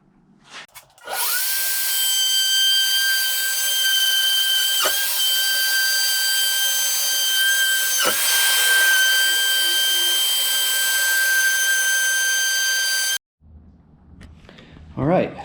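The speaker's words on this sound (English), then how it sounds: "I should note, I'm not very good with a router." A router hums steadily at close range as it trims the edge of a solid hardwood table, with brief dips in pitch as the bit bites, then cuts off into a quiet room.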